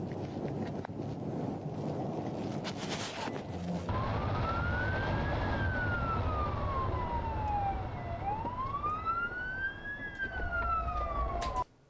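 Police car siren during a pursuit with several officers responding: a loud, rising and falling wail that sweeps up and down twice over a rumbling road and engine background, close by and continuous until it cuts off abruptly.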